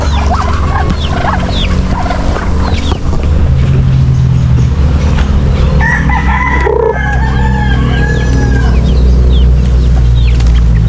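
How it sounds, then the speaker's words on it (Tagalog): Chickens cluck and crow amid a busy, steady farmyard din, several birds calling at once, close and loud throughout. "papasukin lang natin mga manok."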